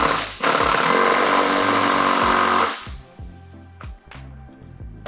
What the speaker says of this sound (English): we're going to use a 15mm socket or wrench on the axle and then a 17mm on the axle nut